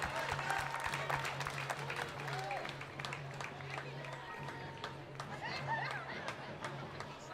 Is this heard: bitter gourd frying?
no